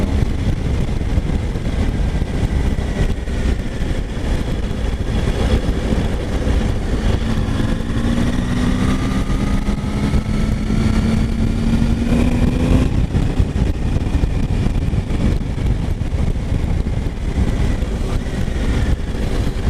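A 2019 Triumph Tiger 800 XR motorcycle, A2 restricted version, cruising in sixth gear, its engine a steady loud drone with rising and falling tonal whine over constant wind rush throughout.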